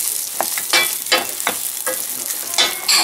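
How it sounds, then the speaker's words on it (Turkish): Rice and orzo toasting in butter in a pot, stirred in repeated scraping strokes over a steady crackling sizzle, each stir rising briefly louder. "Şimdi karıştırıyoruz pilavımızın pirinçleriyle arpacıklarını birbirine."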